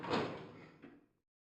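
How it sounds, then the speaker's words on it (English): A single door in a Resident Evil video game swings open with a heavy, reverberant scraping thud, followed by a smaller knock as it settles and then a quick fade to silence. "Oh, that was the door I wanted to go through."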